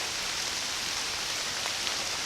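Steady rain falls as a dense, even hiss, with faint individual drops pattering throughout.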